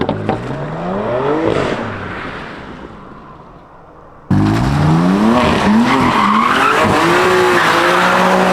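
A tuned BMW, an M2 Competition F87 or M4 Competition, drifts on a mountain road. Its engine rises in pitch as the tires squeal and skid, then the noise fades and bursts back loud and close in a second long slide.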